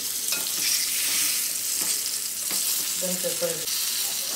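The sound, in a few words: karli fish frying in a pan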